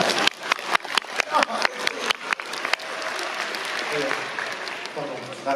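A festival audience bursts into applause with sharp, uneven clapping that settles into a dense, steady patter, and a voice is heard over it.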